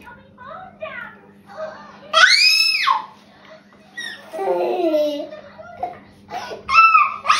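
A young girl squeals and screams playfully in high, bursting cries, some near and loud, with a low steady hum underneath and no adult talk.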